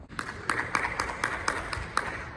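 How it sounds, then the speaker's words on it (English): Hand claps echoing around a Princeton University campus spot, struck one at a time in a fairly steady rhythm, each sharp snap trailing off in a short reverberant tail. "So the claps echo."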